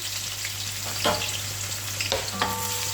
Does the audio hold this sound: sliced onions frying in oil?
yes